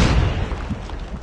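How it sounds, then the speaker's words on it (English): A flashbang grenade goes off in the mobile game Call of Duty Mobile; a loud, close burst that rings out and fades over about a second, with no talk over it. "Flashbang."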